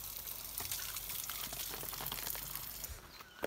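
Water bottles being filled at the Mulpani spring, with a continuous splashing, gushing flow of water close by and a few irregular knocks, with no talk.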